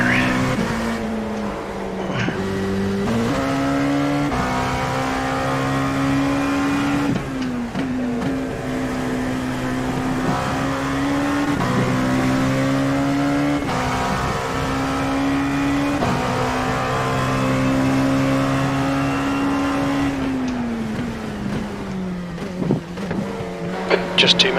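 LMP2 prototype race car lapping the Mosport circuit, its engine a loud continuous drone that climbs in pitch and drops sharply at each gear change, heard steadily from up close.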